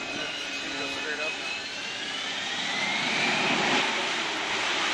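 A Harrier jump jet engine roars steadily with a high whine, swelling slightly louder toward the end, heard from a distance beneath people talking.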